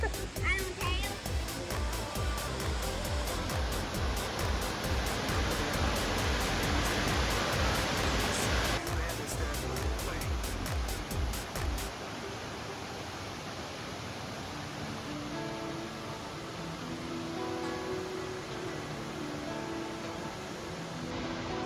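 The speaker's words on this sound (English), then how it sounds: "that's gotta be one of the prettiest waterfalls in Tennessee right there" A waterfall at Rock Island State Park, Tennessee, roars as a steady broadband rush that stays loud and constant, softening somewhat in the latter half, with people talking faintly at times.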